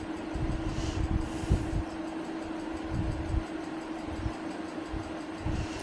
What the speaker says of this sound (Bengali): আর ট্রেনটা যে খুব একটা জুড়ে যাচ্ছে তাও কিন্তু নয়, একদম স্লো যাচ্ছে